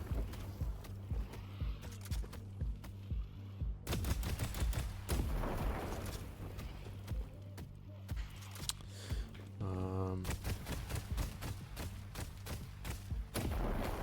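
Bursts of gunfire landing body and head hits in the game Deadlock, a run of quick thudding shots with a rhythmic chain of hit ticks near the end, spaced by short pauses.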